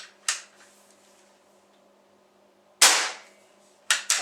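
Pellet gun fired in three separate sharp cracks: one early, one loud shot near the middle, and a final close pair of bursts at the end, with near silence between them.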